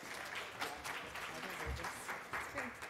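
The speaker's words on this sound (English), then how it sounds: "Would you please give her a warm round of applause?" Audience applause greeting the president and CEO of the Congressional Black Caucus Foundation, a sustained patter of many hands at moderate loudness, with faint voices mixed into the crowd noise.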